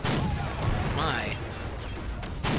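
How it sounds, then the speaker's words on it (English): Artillery fire in Men of War: Assault Squad 2, loud booming blasts at the start and end with a rolling rumble and a whistling shell between, mixed with a voice talking. "Gee, that's artillery."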